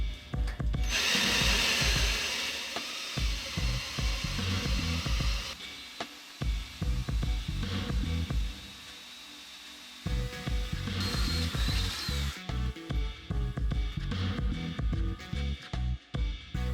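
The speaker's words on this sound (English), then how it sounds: "so I have enough room to drill the rear 2 bolt holes" A power drill whines and grinds through a metal frame drilling bolt holes in long runs, pausing briefly between bursts, close and loud.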